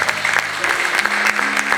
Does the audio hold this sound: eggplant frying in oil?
no